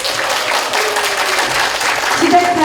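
An audience claps through the opening of a poetry recitation contest in Seosan, South Korea, with steady, dense applause at close range under an announcer's voice.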